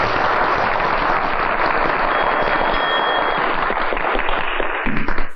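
Colleagues at a gathering in a film give dense, sustained applause that holds steady throughout and drops away abruptly at the very end.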